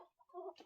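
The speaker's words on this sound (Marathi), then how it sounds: "आणि ह्याच्यामध्ये आहेत आमच्या कोंबड्या." A chicken in a homemade village coop in Maharashtra gives a brief, faint cluck, a short throaty call with no voices over it.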